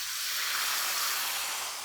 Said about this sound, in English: And it'll start to sizzle away.